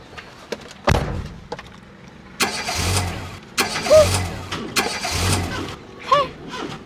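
A car engine cranks repeatedly and fails to catch, several separate bursts of starter whirring with short pauses between them, close and fairly loud.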